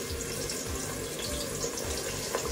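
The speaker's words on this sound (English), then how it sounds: "now that my oil has come up to temp, I'm going to carefully drop in my wings" Chicken wings for restaurant-style Buffalo wings going into hot frying oil in a pan, giving a loud, steady, continuous sizzle and hiss that lasts the whole stretch without a break.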